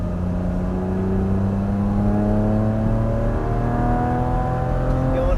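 Porsche Cayman GTS engine accelerating hard on a race track, a loud continuous rising drone heard from the cabin that climbs steadily in pitch through the gear without a break.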